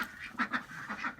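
A backyard duck quacks a few times in quick succession, close and moderately loud, against a faint outdoor background.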